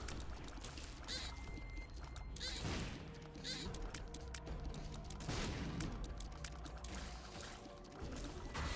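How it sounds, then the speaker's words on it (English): Explosions in the video game The Binding of Isaac: Repentance, with repeated broadband blasts at uneven intervals over busy, continuous game audio and no talking. "Lots of explosions going on in here"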